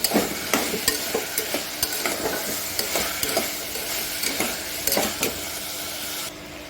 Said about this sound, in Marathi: थोडंसं मीठ टाकून सगळ्या भाज्या छान परतून घ्यायच्या